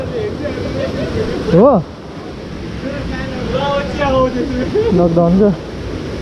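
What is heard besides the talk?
river stream flowing near Sundari Mai temple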